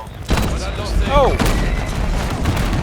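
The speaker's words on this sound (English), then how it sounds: "That guy hit me with a fire shotty?" Gunfire bursts in a Call of Duty Modern Warfare match, including a hit from an incendiary fire shotgun, crack after crack loud and close over a dense battlefield din, with a player's voice talking through it.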